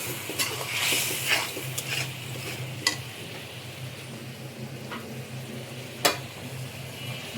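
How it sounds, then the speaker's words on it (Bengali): Silver carp fish curry with ridge gourd and potato, its fried spices just topped up with water, being stirred in a pot: a steady low bubbling sizzle with a few sharp utensil knocks against the metal, close and unaccompanied by speech. "জল দেওয়ার পরে নেড়ে এটাকে আমি ঢেকে দিব।"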